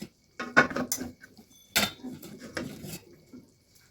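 Clattering of a pot and utensil as rohu fish curry with potatoes is tipped out into a serving dish, several close metallic knocks and scrapes in short bursts, with brief pouring noise between them.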